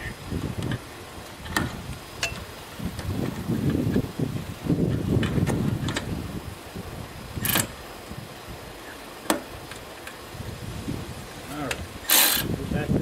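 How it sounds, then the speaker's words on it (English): A ratchet works a boot clamp on a charge air cooler tube of a 6.0 liter Powerstroke diesel, scattered clicks and rattles among handling noises and short sharp metallic snaps, close by in a quiet workspace. "we put it on place first so we can get the ratchet in there"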